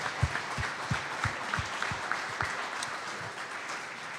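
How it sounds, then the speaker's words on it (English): A round of applause on a sports talk show: a soft, steady patter of clapping heard at a distance, with a few sharper low thumps spaced evenly through it before it thins out. "How about a big round of applause for the Hawks?"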